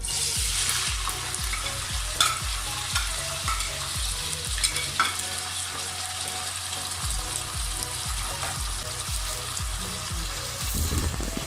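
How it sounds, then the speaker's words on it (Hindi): Onions frying in a pan while a spatula stirs them in a regular scraping rhythm, dense sizzle throughout, close and fairly loud with no voices. "अब हम इसमें प्याज डालेंगे और हल्का सा इसको हम फ्राई करेंगे।"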